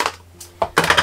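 Plastic microwave vents on serving dish lids being popped up in a boat galley: a few short, close clicks and clacks of plastic, separated by brief pauses.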